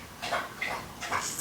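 A pet dog named Cricket pants and lets out a few soft, high whimpers nearby, in short quiet bursts with no talking.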